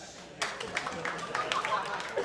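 A comedy club crowd at a live podcast show breaks into clapping after a quiet start, a moderate patter of hands that continues over low voices.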